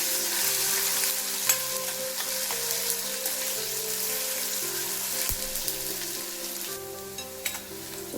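Potato frying in oil for sabudana khichdi, a strong continuous crackling sizzle close by with occasional spatula knocks, no voices.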